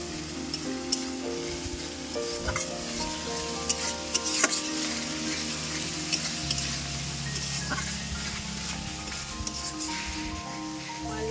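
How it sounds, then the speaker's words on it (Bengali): Cumin powder and spices sautéing in oil for a pabda fish curry give a steady, close sizzle with occasional scraping stirs, continuous and fairly loud throughout with no talking. "এবার এটাকে আমি ভালো করে একটু কষিয়ে নেব।"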